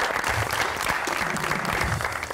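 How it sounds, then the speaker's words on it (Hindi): Studio audience applause welcoming a guest onto a talk show stage, a steady dense wash of clapping that holds at an even, fairly loud level throughout. "तो बहुत सारी तालियों में वेलकम करते हैं जी खोजी साहब."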